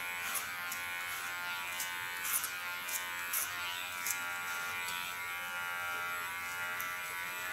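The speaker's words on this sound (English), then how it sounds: "you can guide your hairs into the clipper" An electric hair clipper buzzes steadily while cutting short hair guided by a comb, a close continuous whine with small bursts of higher crackle as it bites through the hair.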